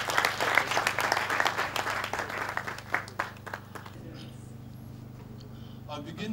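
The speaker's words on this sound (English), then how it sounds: "A round of applause." An audience at a university event claps. The applause is loud and scattered at first with many distinct hand claps over a low hum, then thins out after about four seconds to a quiet background with a few isolated claps.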